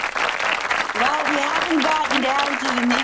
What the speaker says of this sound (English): let's see if we can give Nikki a round of applause again